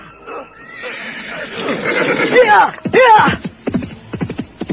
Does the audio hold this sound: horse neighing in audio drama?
yes